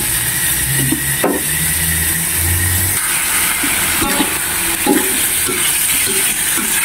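A spoon stirring a homemade Filipino dish in a pan, with a few soft scraping and clinking strokes over a steady background hiss, heard near and without talk.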